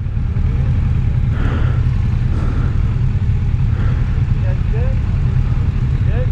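A Kawasaki Z650RS motorcycle on a demo ride gives a steady, low engine drone at fairly constant revs throughout, with a voice speaking over it.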